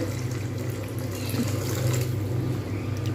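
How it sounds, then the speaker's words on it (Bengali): Water poured into a pot of cooking mung dal made with a rohu fish head: a continuous splashing, gurgling pour heard close up for a few seconds. "জল দেব আর একটু জল দেব"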